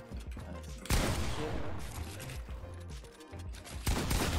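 Rapid bursts of gunfire crackle through a Fortnite arena duo mix, with sharp loud volleys at the start and end and steady shooting between.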